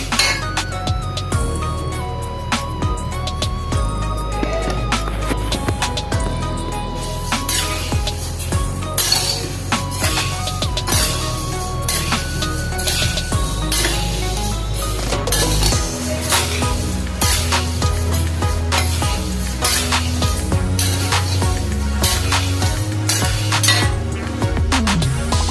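Food is roasted in a pan in an evening home kitchen, with metal utensils clinking and scraping steadily and a continuous sizzle over a low background hum.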